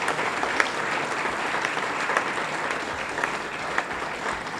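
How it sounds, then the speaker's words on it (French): An audience in Senegal applauds survivors of female genital mutilation at a public event: sustained, even clapping from a sizeable crowd with scattered sharper claps, at steady volume throughout. "j'aimerais que tout le monde les applaudisse"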